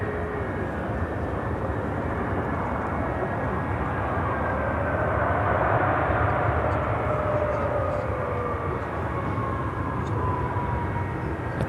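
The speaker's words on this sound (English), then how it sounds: "American Airlines Flight 160, 787-9 Dreamliner heading to Athens, Greece" An American Airlines Boeing 787-9 Dreamliner takes off at Chicago O'Hare, its broad engine roar steady and loud throughout and swelling slightly toward the middle, with a faint tonal whine sliding across the rumble.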